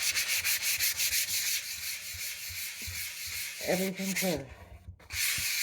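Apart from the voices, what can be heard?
sanding wood with sandpaper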